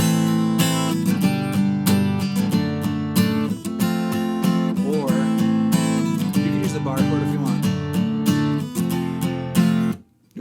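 Full strummed F barre chord on guitar rings out steadily, with a bright rhythmic pattern continuing for several seconds before stopping abruptly.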